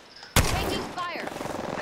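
Gunfire in the shooter Apex Legends: one sharp, loud shot rings out, followed by a rough, crackling tail and fainter follow-up noise.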